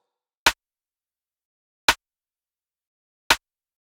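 Snare drum hits from a mix, heard dry without console processing: three sharp, bright strikes spaced evenly about a second and a half apart, alone with silence between.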